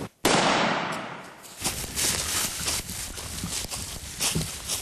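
A single loud shotgun blast while turkey hunting in the Kentucky woods, a sudden sharp report followed by rustling and footsteps through brush.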